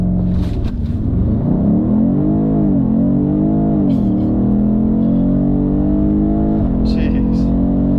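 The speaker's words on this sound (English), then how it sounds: "This is launch control on a 2020 BMW M850i xDrive." A 2020 BMW M850i xDrive launches hard under launch control, its engine roaring loud and close as the pitch climbs steadily through the gears with brief dips at each shift.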